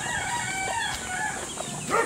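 Chickens on a farm in the Philippines cluck and crow faintly, a busy overlapping flock chatter heard at a distance over a constant background hiss, with no voices.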